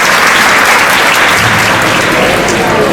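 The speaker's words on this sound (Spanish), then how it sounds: "Así que yo os pido para ellos, para Rosa y para Fernando, un fuerte aplauso" Sustained, dense applause from an audience at an awards gala, loud and steady throughout with no letup.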